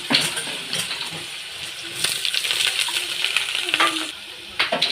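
Potato, onion and green chilli tipped together into hot oil already tempered with dried red chilli, frying with a steady close crackling sizzle and occasional light stirring clinks.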